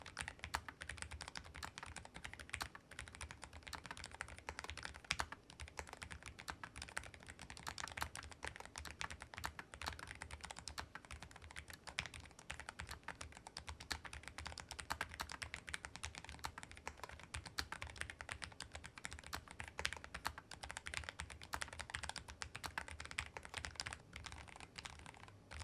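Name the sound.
typing on Corsair Vanguard Air 99 slim keyboard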